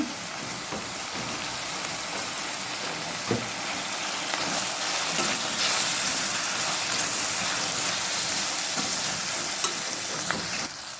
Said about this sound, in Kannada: ಇದು ಒಗ್ಗರಣೆ ಚೆನ್ನಾಗಿ ಬೆಂದಿದೆ.